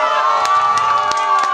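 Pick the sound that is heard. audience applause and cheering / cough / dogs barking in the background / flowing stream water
audience applause and cheering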